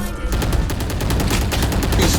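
Rapid spam-fired gunfire from a Sheriff in a shooter video game, dense overlapping shots in a fast continuous fusillade, loud and close, after a brief quieter start.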